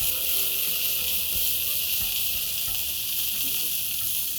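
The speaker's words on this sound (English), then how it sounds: "Let's saute this for a couple of minutes and then move on to the next ingredients." Finely chopped fenugreek leaves sauté in a pan for a methi matar palak dish, a steady close sizzle and hiss with occasional faint clicks of stirring.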